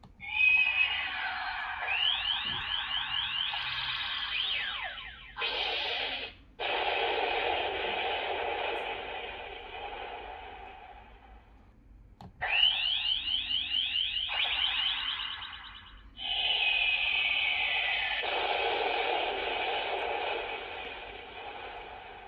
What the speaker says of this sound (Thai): มันก็จะเป็นพวกเสียงเอฟเฟกต์ท่าโจมตีต่างๆนะฮะ